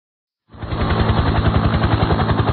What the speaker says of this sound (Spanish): se oye un helicóptero